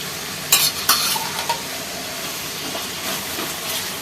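Fried onions added to a dum chicken biryani pot along with green chilies and coriander, with a couple of sharp clanks and scrapes of stirring over a constant steamy sizzle and hiss.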